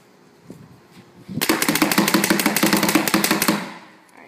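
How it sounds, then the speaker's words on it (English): An ANSgear Etek 4AM paintball marker fires a rapid string of about a dozen sharp, evenly spaced shots, loud and close, after a brief quiet lead-in with faint background noise. "Alright, shooting the new Etek 4AM."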